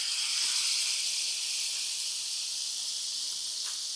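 Marinated chicken frying in butter in a pan, a steady, bright hiss and sizzle held close and continuous throughout, with faint pops now and then.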